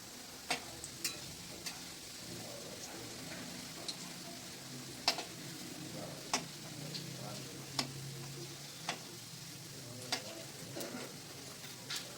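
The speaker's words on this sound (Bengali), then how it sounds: "খুবই অল্প আঁচে ভাজলে জিনিসটা খুব ভালো হবে" Litti dough balls frying gently in oil over low heat, a soft steady sizzle with faint crackles and a few sharp ticks scattered throughout.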